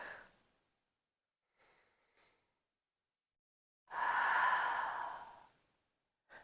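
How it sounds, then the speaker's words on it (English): Slow breathing during a yoga twist sequence: a soft exhale fades at the start, two faint breaths follow, then one long, louder exhale runs nearly two seconds in a quiet room, with no talking. "moving to the sound of your own breath."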